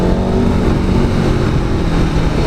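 An Aprilia Tuono V4 Factory hyper-naked sportbike engine roars loud and close, a dense, continuous rumble with a steady low growl and no speech.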